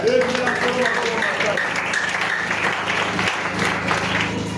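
A church congregation applauding and cheering to praise the Lord, a dense steady wash of many hands clapping throughout, with voices mixed in.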